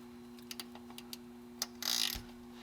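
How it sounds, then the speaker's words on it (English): A 3/8-inch drive ratchet fitted into a car's belt tensioner gives a few quiet, scattered clicks, then a short louder ratcheting burst, close up against a faint steady hum. "So 3/8 drive ratchet and put it in the tensioner right here."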